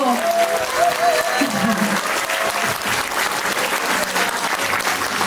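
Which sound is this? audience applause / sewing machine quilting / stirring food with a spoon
audience applause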